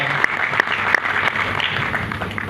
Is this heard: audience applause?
yes